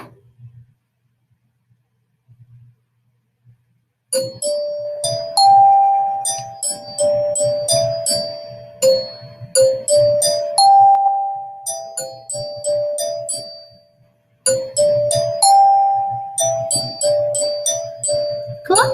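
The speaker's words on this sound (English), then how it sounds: "So I'm going to play a little bit of the glockenspiel." A glockenspiel struck with hard mallets rings out in a bright melodic run of quick, close, metallic notes with short decays, pausing briefly midway before the tune resumes.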